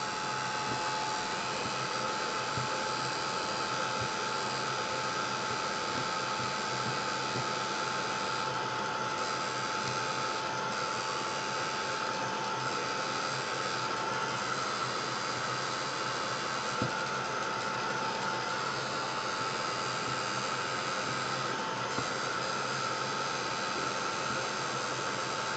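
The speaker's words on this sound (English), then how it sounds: "I'm going to dry it with my heat tool." A heat tool blows steadily for the whole stretch, drying a piece of scrunched-up altered bag material, with a constant loud airy hiss and whine and no talking.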